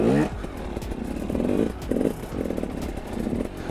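A dirt bike engine revving in short throttle bursts during a pivot turn, several rhythmic rising pulses with clattering mechanical noise, close and moderately loud.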